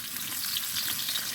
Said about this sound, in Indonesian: Setelah panas, kita akan tumis bawang merah dan bawang putih sampai harum dan berwarna kecoklatan.